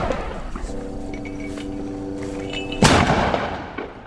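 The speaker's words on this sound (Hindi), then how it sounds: "पूर्वी अल जैतून में इजरायली सैनिकों के ऊपर एक हैवी मोटर गोले दागे हैं" A heavy mortar shell fires with one sudden loud boom that rings out and fades, following a stretch of steady mechanical droning; no speech.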